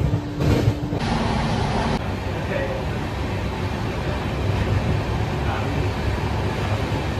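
A Vistadome tourist train runs at about 95 km/h between NJP and Alipurduar, giving a steady low rumble and rolling noise from inside the coach while someone talks over it.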